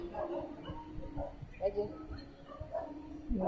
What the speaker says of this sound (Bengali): এত কুকুরের আওয়াজ আসে